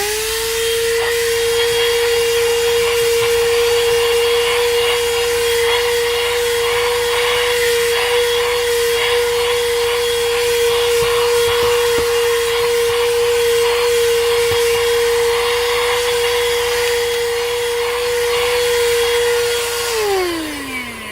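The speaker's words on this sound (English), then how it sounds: "Let me just try a different hose now and see if that works." A Hotor car vacuum cleaner fitted with a longer hose hoovers car carpet, a loud steady motor whine holding one pitch with faint rustling against the carpet, then winding down as it switches off at the end.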